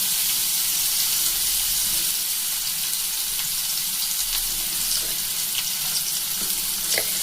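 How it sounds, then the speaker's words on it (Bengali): Steady, close sizzling of spice-coated fish frying in a little oil in a pan, a constant crackling hiss with occasional sharper pops, no voices. "মোটামুটি অল্প একটু তেল দিয়ে এটাকে ভেজে নিতে হবে"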